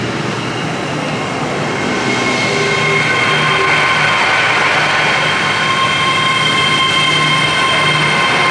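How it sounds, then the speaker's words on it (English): Class 800 or 802 IET five-car mainline service heard from on board, a loud steady rumble of wheels and motor hum with a faint rising whine, continuous with no talk. "So here we go, we are on our first mainline train of the day."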